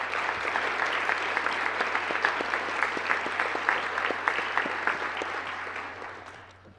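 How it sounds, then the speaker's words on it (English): Sustained applause from an audience at an honors night awards ceremony, dense steady clapping that fades out toward the end. "Let's give them a round of applause for their hard work this past year."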